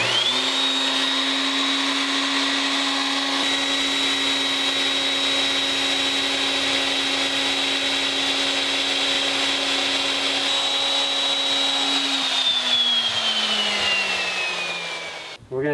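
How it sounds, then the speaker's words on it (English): Power drill boring a tough hole through a piece of wood, a steady loud whine holding one pitch for about twelve seconds before winding down as the bit slows and stops. "One of the tougher holes that you can drill in any piece of wood."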